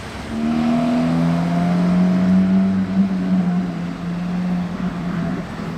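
A Porsche 992 GT3 Touring drives past on a street in Monaco, its engine a loud, sustained tone that swells close by and then fades as it moves away.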